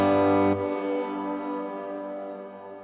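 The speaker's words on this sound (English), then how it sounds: "But here is with no modulation on this reverb sound." Electric guitar through a reverb pedal with modulation off: a loud sustained chord that cuts off after half a second and leaves a long, smooth reverb tail decaying alone.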